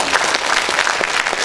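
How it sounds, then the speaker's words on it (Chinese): An audience at a seminar or training session gives a warm round of applause, a dense, even patter of many hands clapping at close range for the whole moment, with no voices over it. "我们再给我们的江贝珍孔雀一个热烈掌声好不好？"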